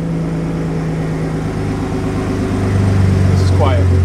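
A 2023 Ford Raptor pickup idles with its exhaust set to sport mode, a steady, loud, low rumble that swells slightly louder toward the end, with faint speech in the background.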